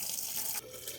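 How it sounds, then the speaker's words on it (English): Fuel pouring from a Honda Civic's tank into a 2.5-quart jug, a steady close hiss of liquid that thins and quiets partway through, with no talking. "Draining the tank is pretty simple."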